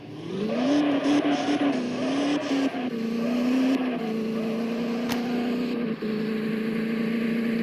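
A Land Cruiser in the Indian Vehicle Simulator video game roars loudly and steadily as its engine revs and drives hard into a jump, with the engine pitch rising and dipping throughout.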